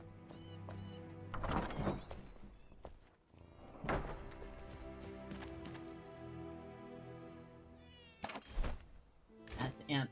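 A cat meows in the survival video game Enshrouded, a few short calls rising over game sounds, with thumps, sliding noises and a person talking around them.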